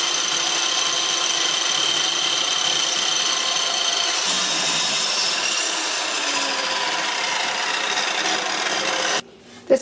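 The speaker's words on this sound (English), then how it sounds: "Now it's time to go over the chop saw and cut these to where I need them to" A chop saw cuts wooden pieces to length for a freestanding paper towel holder, a loud, continuous whining, rasping cut held for about nine seconds before the blade stops abruptly; no talking.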